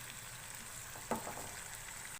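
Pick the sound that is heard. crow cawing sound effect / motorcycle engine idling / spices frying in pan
spices frying in pan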